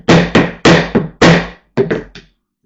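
A metal hole punch is hammered through leather for a custom sheath, seven or so sharp, loud thuds in uneven bursts, close up, with a short pause before a final quicker cluster and then silence.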